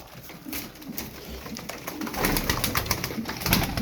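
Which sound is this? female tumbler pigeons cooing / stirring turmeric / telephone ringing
female tumbler pigeons cooing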